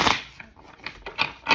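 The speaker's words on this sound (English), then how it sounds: "One more shuffle." Tarot cards are shuffled close up in a quick burst of papery riffles and soft slaps, several brisk flicks within a second and a half, with no talking.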